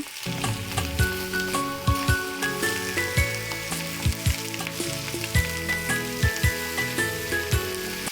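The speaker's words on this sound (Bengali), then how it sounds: "এবার ওই কড়াইতে সামান্য তেল দিয়ে ফুলকপিগুলোও ভেজে তুলে নেব" Cauliflower pieces fry in a little oil in a wok, giving a steady, close sizzle that runs throughout, with light stirring clatter recurring at intervals.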